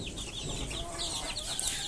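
Desi chickens kept in a cage for breeding cluck softly and intermittently, faint and somewhat distant over a steady background hiss.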